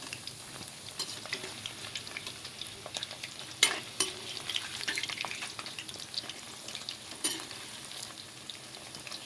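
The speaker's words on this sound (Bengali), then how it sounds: "এখানে উল্টে পাল্টে চিকেনগুলোকে ভেজে নেবো" Chicken pieces being turned over in a wok of hot oil: continuous sizzling broken by a few sharp scrapes and clatters of a utensil against the pan, close and fairly loud.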